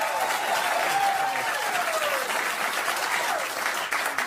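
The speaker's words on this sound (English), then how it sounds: "as you hear from the applause" Studio audience applause fills the room steadily, a loud continuous wash of clapping with faint cheering mixed in throughout.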